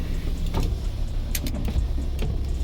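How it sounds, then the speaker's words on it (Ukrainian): Power windows on a 2008 VW Transporter T5 2.5 TD are operated, giving a steady whirring electric motor hum inside the van with a few short clicks and knocks as the glass moves and stops. "склопідйомники перевіряємо"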